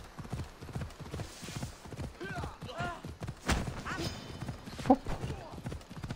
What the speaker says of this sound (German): Jetzt hat das Pferdchen ein bisschen Geschwindigkeit aufgenommen.